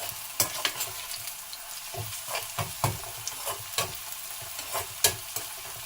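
Onions sizzling and frying in a pan over medium flame, with a steady crackle and several sharp scrapes of a spoon stirring, close by.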